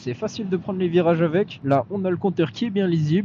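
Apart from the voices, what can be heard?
No everyday noises stand out.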